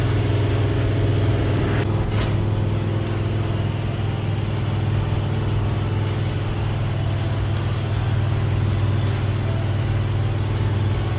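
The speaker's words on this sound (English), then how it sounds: "at 55 or 60, we're over 3 grand. It's like NASCAR with the long tube headers, and I think I got Magna flows on there" A 1966 Ford F250 4x4 with long tube headers and Magnaflow exhaust cruising at highway speed around 3000 rpm, a steady loud low engine drone with road roar and no pauses throughout.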